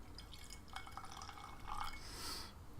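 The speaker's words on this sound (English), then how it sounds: "So let me just pour a dram here." Jack Daniels Old No. 7 whiskey is poured into a glass as a small dram, a faint, brief liquid trickle and splash heard up close in a quiet room.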